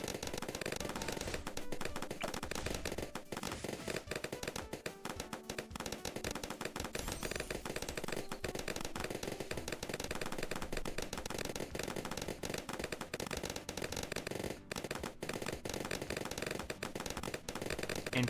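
Video game gunfire from many guns, a dense, continuous barrage of rapid shots blending into a loud, unbroken roar that holds for the whole stretch with only tiny gaps.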